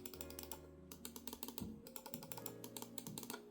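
Buttons on a MARVO Niro 60W gaming mouse click repeatedly in quick, crisp taps, close and quiet, over faint background music.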